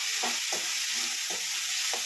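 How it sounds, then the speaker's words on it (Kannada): Capsicum frying in oil in a pan, a steady bright sizzle running throughout with several soft stirring scrapes spaced irregularly, close and moderately quiet, no voices. "ಇದು ಕ್ಯಾಪ್ಸಿಕಮ್. ಇದನ್ನು ಎಣ್ಣೆ ಸ್ವಲ್ಪ ಚೆನ್ನಾಗಿ ಫ್ರೈ ಮಾಡ್ತಾರೆ."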